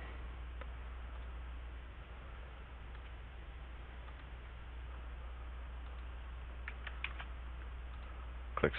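A brief burst of keystrokes on a computer keyboard as a password is typed, a few quick faint clicks near the end over a steady low hum, with no talking.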